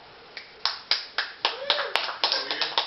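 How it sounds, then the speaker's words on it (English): A small group claps after announcements at an informal gathering, sharp irregular hand claps building from a single clap into a brief scattered round, fairly close and moderately loud. "We applaud people for their announcements."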